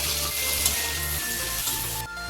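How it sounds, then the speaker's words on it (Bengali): Sliced onions fry in hot oil in a home kitchen pan while being stirred, with a loud continuous sizzle and a few scraping touches throughout. "আমি এভাবে পেঁয়াজ দিয়ে দিলাম, পেঁয়াজটাকে ভালো করে নেড়ে নেবো।"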